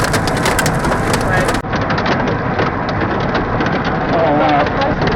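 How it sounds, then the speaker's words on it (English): Heavy rain and hail pound steadily and loudly on a vehicle during a tornado storm, a dense unbroken roar from start to finish. "we're losing the bigger hail, I think."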